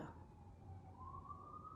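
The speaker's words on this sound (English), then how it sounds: "the siren going off in the background is throwing me off" A faint siren wails in the distance, its tone slowly rising and holding steady beneath a low background rumble.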